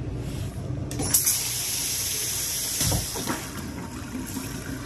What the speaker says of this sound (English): This sink has its own flushing system.